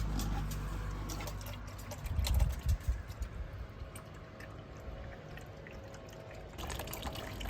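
Coolant drains from a car radiator drain plug through a connected hose, a steady liquid pouring and trickling sound close by, swelling briefly near the start and running on evenly to the end.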